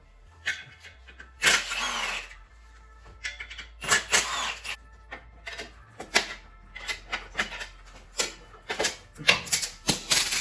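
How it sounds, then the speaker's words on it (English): Clutch pressure plate being removed from a VW GTI, heard as a series of sharp metallic clicks and ratcheting bursts from hand tools, close and irregular, with short pauses between the bursts. "All right, so we're removing the pressure plate now."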